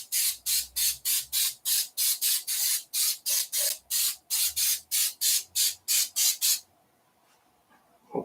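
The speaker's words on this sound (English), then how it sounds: "Cooking spray, canola cooking spray to be precise." Canola cooking spray from an aerosol can, hissing in about seventeen short, rhythmic, close bursts into the nooks of cast iron, then stopping into near silence.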